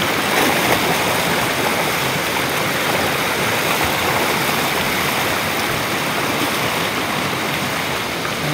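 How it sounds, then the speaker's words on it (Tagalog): A strong river current rushes in a dense, unbroken roar of water, loud and close throughout, with no voices over it. "Malakas ng agos."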